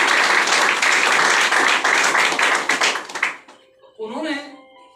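Loud applause from an audience at a motivational seminar, dense clapping for about three seconds, then cutting off abruptly before a short stretch of speech.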